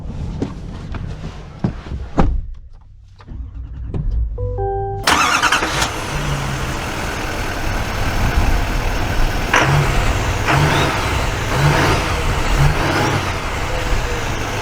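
A 2024 Chevy Silverado HD LT long-bed pickup with the Duramax diesel pulls away, its engine note swelling from a quiet idle into a loud, sustained drone with rising gear-change surges, heard close with no talking.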